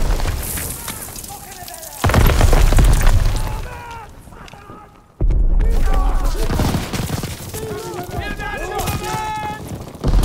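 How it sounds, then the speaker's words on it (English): Machine guns sweep a beach in the WWII Normandy-style level of Call of Duty WWII, bursts of gunfire and explosions crashing loudly amid battle noise, with shouting voices over the top. "MGs are still sweeping the beach."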